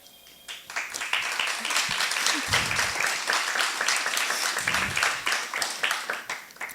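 An audience at a university seminar on internationalization applauds, starting with a few scattered claps that quickly swell into a steady round of distinct, close hand-claps before thinning slightly at the end.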